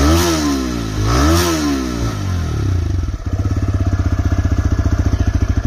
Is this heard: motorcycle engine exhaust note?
yes